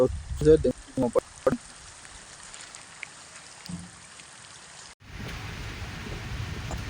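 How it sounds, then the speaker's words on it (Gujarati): Steady monsoon rain hisses in the background in Gir, Gujarat. Short bursts of speech come near the start, and the rain turns louder and denser toward the end. "વરસાદ ચાલુ છે"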